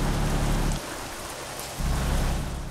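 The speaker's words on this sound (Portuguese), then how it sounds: "E há a travoada que está a cair, guys." Rain and a rolling thunderstorm in the truck driving game Euro Truck Simulator 2, Norway, steady hiss of rain with deep low rumbles that drop out briefly mid-clip and then return.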